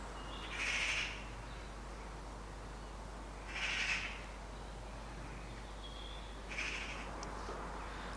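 Birds call on a farm yard: three separate bright calls, each about a second long, ring out a few seconds apart at moderate distance over a steady low background hum.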